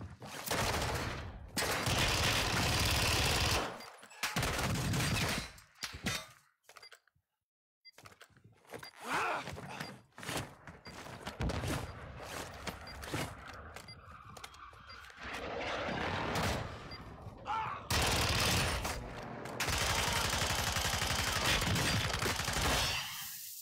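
Pistol gunfire in the video game Warzone 2, rapid bursts of loud, sharp shots coming in clusters with brief quiet gaps between them and a mix of nearer and more distant fire.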